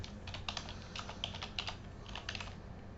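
Quick, light keystrokes clatter on a computer keyboard in irregular bursts, close and fairly quiet, during a coding session on Express routing with no speech.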